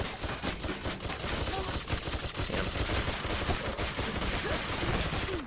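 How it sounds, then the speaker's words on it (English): Enemy gunfire in the co-op brawler video game Full Metal Furies, a continuous dense barrage of rapid shots and impacts from across the map, loud and steady throughout with no talking. "They're shooting at you from across the map."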